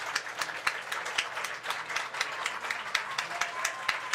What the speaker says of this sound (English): Crowd's starting to get into it now.